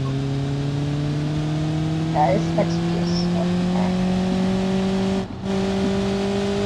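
A crew cab offroad truck in the BeamNG Drive racing game, its engine revving hard and climbing in pitch as it strains toward blowing the motor, loud and steady, with someone talking briefly over it.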